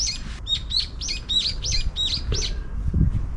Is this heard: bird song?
yes